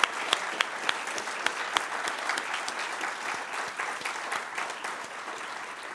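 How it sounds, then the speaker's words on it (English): An indoor audience applauds steadily in sustained, dense clapping with sharp individual claps standing out, no voices heard. "big, rousing round of applause for everyone"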